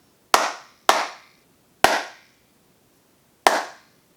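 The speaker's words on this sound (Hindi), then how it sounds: "अभी मैं 3 ताली मारूंगी तो देखेंगे कि आवाज़ कितनी गूंजती है" A woman claps her hands to test the echo in a room before a DIY acoustic fix. Four sharp, separate claps each trail into a short ringing decay, with no talking.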